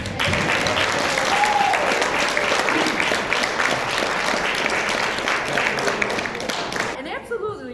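Steady, sustained applause fills a church dinner hall after a magic show, a dense crowd clapping loudly and evenly for several seconds before it tapers off at the end.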